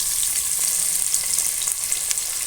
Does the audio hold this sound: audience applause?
no